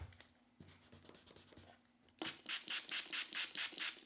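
Water-based ink pads pressed and smooshed onto a craft sheet, giving soft scratchy rubbing strokes that turn into a run of louder rhythmic rubbing bursts toward the end, close and alone.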